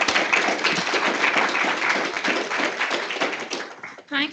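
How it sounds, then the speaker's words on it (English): A workshop audience gathered for a pitching session claps for the next presenters, a patchy burst of close individual hand claps that thins out before a voice briefly speaks at the end. "Please give them a big round of applause."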